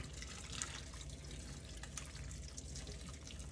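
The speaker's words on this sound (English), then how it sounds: "We're going to pour boiling water over the onion." Boiling water poured over onions in a colander in a sink gives a quiet, continuous splashing and trickling with scattered drips.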